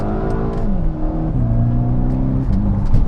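A Volkswagen GTI with a Cobb Accessport on a stage 1 tune and 91-octane high boost accelerates hard, its steady engine drone rising through the gears with a slight dip at each shift, loud and close throughout.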